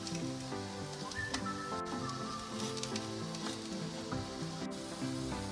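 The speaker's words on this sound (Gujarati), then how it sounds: "આપણે બીજી સાઈડ પણ એ રીતે બ્રાઉન શેકી લઈએ" Ragda patties shallow-frying in a pan of oil produce a steady, close sizzle that carries on without a break, with soft background music playing underneath.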